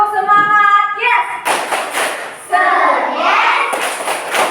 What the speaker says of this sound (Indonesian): Tepuk semangat yes.